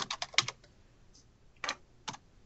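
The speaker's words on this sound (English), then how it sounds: "I would take out her name and type in my name" A name being typed on a computer keyboard in an office setting, with a quick burst of close key clicks, a pause, then two short isolated keystroke clusters, alone and fairly quiet.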